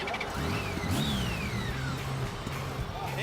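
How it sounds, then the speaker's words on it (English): A six-cylinder motorcycle engine revving loudly up close, a rising and falling mechanical roar over steady background noise, with faint voices and music mixed in. "Engines purring, 6 cylinders are firing, music's pumping."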